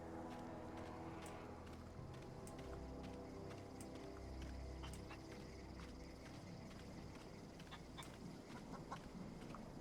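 Chickens cluck and murmur continuously on a farm setting in the video game The Outer Worlds, soft and somewhat distant under a steady ambient bed with scattered sharp clicks.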